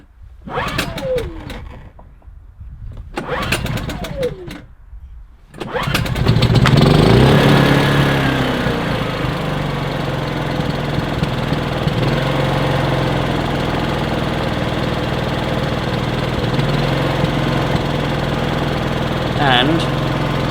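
An old petrol generator that sat unused for years, cranked by several pulls before catching, then settling into a steady close idle with a rattly, buzzing drone; a voice talks briefly before it fires.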